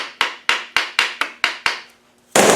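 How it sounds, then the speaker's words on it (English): Six sharp, evenly spaced hammer taps ring out close by as a clip is tapped into place on a Land Rover Defender bulkhead, followed by a short pause and then a louder burst of noise. "You can push it with your fingers, tap it with a hammer"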